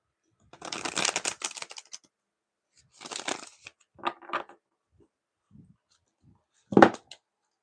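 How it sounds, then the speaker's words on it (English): Tarot cards shuffled in several bursts of riffling and flicking, each lasting about a second, separated by short pauses, fairly close and crisp, with a sharp snap near the end. "All right, one more shuffle."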